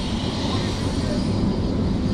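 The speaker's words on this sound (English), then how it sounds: "the biggest helicopter tour I'm gonna do around New York City" Inside a helicopter on a tour flight over New York City, a loud steady engine and rotor roar fills the cabin, dense and unbroken from start to finish.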